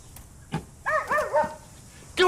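A dog that needs a home barks a few times in quick short yaps, fairly close, with a pause before a final sharper bark.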